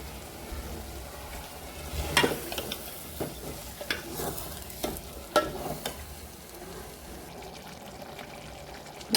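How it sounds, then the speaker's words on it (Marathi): Sprouted moth beans sautéing in a spiced masala in a pan, a steady sizzle broken by scraping stirs of a spoon, close and fairly loud, with no voices. "मटकीला पण 5-10 मिनटं छान परतू द्यायचं आहे मसाल्यामध्ये"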